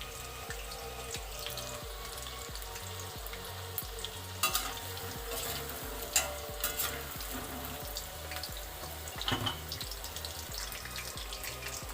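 Chicken pieces fry in oil with a steady crackling sizzle over a regular low rhythmic thump, with occasional sharper pops and clatters and no speech.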